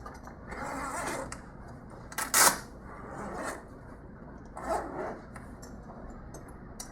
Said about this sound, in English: either unzip it or unlatch it